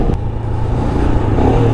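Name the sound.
Royal Enfield Himalayan motorcycle accelerating hard from launch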